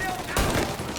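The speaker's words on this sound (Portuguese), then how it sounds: "Toma uns tiros aí, Sam." Gunfire in the video game Mafia: Definitive Edition, a short burst of shots in the middle of the second, fairly loud, over a steady game background with a voice present.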